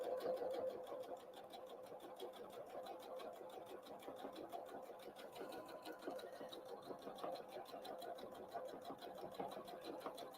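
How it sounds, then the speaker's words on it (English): A sewing machine runs steadily while stitching Christmas tree napkins, its fast needle clatter continuous and close throughout, with a faint voice in the background. "I'm just stitching all the way to the end"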